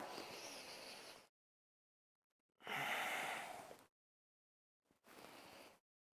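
Three deep breaths drawn and released during a slow-flow yoga session, each a soft, airy rush lasting about a second, close and clear, with silent pauses between.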